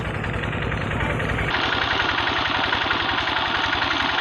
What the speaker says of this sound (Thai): สูบน้ำลงในบ่ออีกฝั่งหนึ่งนะครับ